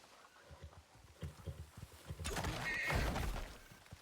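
A horse whinnies in the survival game Icarus, a loud, rough neigh rising near the end over a scatter of soft thuds and hoof-like knocks.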